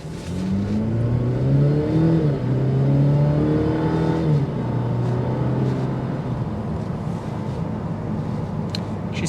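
A 2025 Cadillac CT4 sedan accelerating hard from a stop, engine droning loud and close as it climbs through the revs with a shift, then settling into a steady roar with road noise.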